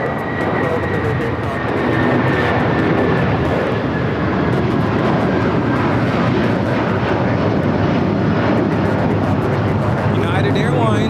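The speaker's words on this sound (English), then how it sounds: "Another United 757 taking off 25 right." A United Airlines Boeing 757 takes off from runway 25 right at LAX, its jet engines giving a loud, steady roar that holds through the whole stretch while a voice talks over it.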